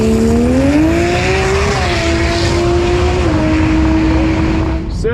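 Tesla Model S Plaid on a quarter-mile drag run, a loud continuous electric motor whine climbing and stepping in pitch over heavy road and wind roar, close and without talking.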